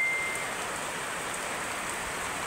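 Steady rain hiss in rural Bicol province, a soft continuous patter without a break, fairly faint and even throughout.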